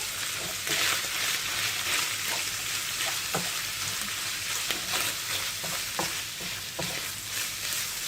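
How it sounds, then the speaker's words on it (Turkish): Spices, including red pepper flakes, black pepper and cumin, are stirred into chicken in a hot pan for tantuni, with a steady sizzle of frying beneath the repeated scrape and clink of a spoon. "Güzelce harmanlayacağız bütün baharatlarımızı."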